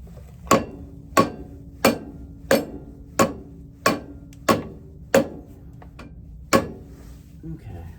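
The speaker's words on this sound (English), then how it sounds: "This is a rubber mallet's job. Alrighty, folks, we're gonna take a whack at it." Rubber mallet whacking a part on a 1989 John Deere 316 garden tractor: about nine sharp, evenly spaced blows roughly two-thirds of a second apart, close and fairly loud, with a faint low hum between strikes.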